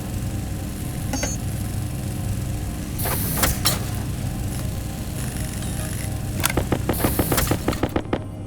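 Gunshots in the space survival game Stationeers, set on Europa: a few isolated cracks early, then a rapid string of sharp, evenly spaced shots near the end over a low mechanical hum.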